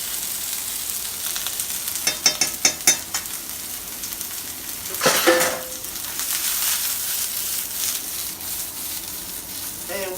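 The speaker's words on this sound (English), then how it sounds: "with the mushrooms, just kind of let them get an even sear on them as well." Mushrooms searing in a hot pan alongside sun-dried tomatoes and fresh minced garlic, a steady sizzle with a few sharp clicks of stirring and a brief louder hiss midway, no talking.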